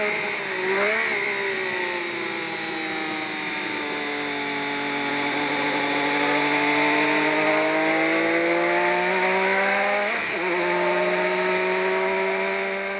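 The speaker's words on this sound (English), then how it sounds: "Notice how quickly the McLaren and Ferrari go by." McLaren and Ferrari Formula 1 cars race past at Brands Hatch, their high-pitched engines screaming steadily and loud, with rising and falling tones as each car sweeps by close, a sharp pass around ten seconds in.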